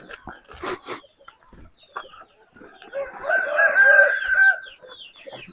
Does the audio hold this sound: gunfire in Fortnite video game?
no